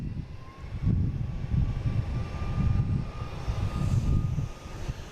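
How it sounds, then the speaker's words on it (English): A Porter Embraer E195 jet passes overhead, a low pulsing engine rumble with a faint steady whine, moderately distant and continuous, with no voices. "Porter E195 flying over somewhere,"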